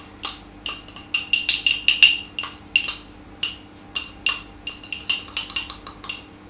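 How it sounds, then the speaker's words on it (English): Whisking egg yolk and corn flour together in a bowl, a rapid series of close, sharp clinks of utensil against the bowl in an uneven rhythm, with short pauses between bursts. "Mix your egg yolk into it."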